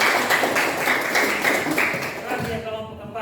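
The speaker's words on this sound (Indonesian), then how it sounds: "tepuk tangan untuk" Students in a classroom clap for a presenting group during a lesson, with a short burst of brisk, close clapping that fades as talking begins near the end.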